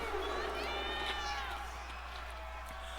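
Crowd noise at an SSW wrestling event, a steady roar of cheering and shouting voices filling the arena, loud and continuous throughout with some high whistles or yells on top.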